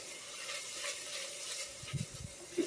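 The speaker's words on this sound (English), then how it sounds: "now we'll stir this around a little bit" Lentils and mushrooms sizzle softly in a pan, a faint steady hiss with a few low scraping stirs near the end.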